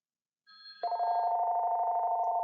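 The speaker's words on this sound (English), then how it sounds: "let's see what it does when it gets an incoming call" A VTech cordless home phone rings for an incoming call, a faint electronic beep starting first, then a steady, loud, warbling ring tone pulsing rapidly and continuously.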